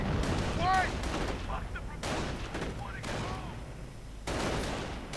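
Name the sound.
gunfire and artillery in a video game battle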